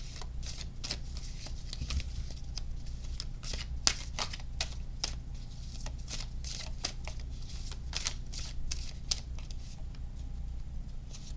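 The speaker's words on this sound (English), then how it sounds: "Mess up all the cards." Tarot cards shuffled steadily by hand at close range, a dense run of quick riffling flicks and soft slaps with sharper snaps every second or so, with no talk over it.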